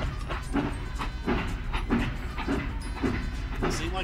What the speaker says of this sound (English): It seemed like they picked up a train here at the end.